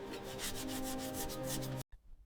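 Steady bristly scrubbing as a brush works years of grime off classic Rolls-Royce Boat Tail engine parts, a close continuous rubbing that stops abruptly near the end, followed by faint handling noise.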